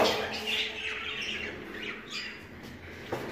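Budgerigars in a breeding room give a burst of harsh squawks and chirps, close and fairly loud, with several birds calling over one another and no talking.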